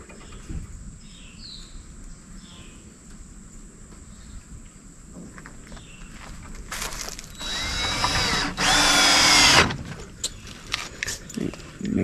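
On a homestead farm, a power drill drives screws during a repair to stop an escaping animal: a quiet outdoor stretch gives way to short loud whirring bursts, the longest near the end.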